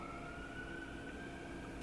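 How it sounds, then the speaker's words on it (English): An emergency vehicle siren sounds outside, a steady wailing tone held at moderate distance under a constant background hum, with no voices. "there's a siren"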